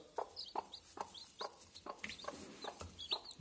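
A hen clucks in a string of short, repeated calls near a water drinker where chicks are drinking, the clucks coming steadily and close by with no talk.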